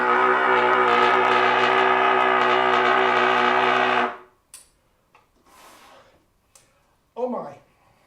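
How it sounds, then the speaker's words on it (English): A vehicle horn honked at a beach, sounding as one loud, steady blast of about four seconds, followed by quiet stretches with a few short voice sounds. "Let me honk"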